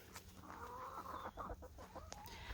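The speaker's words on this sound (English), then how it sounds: "The chickens are following me." Several chickens cluck and murmur close by outdoors in a yard being cleared for a garden, soft overlapping clucks and a few sharper calls over faint background noise.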